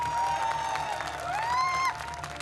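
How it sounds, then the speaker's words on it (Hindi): Crowd applauding at a political election rally in Jamui, Bihar, a dense steady wash of clapping with a sustained tonal whistle or voice rising over it, continuous and fairly loud throughout. "लेकिन ये तालियां बता नहीं रही हैं कि ये जमुई वालों की तालियां हैं।"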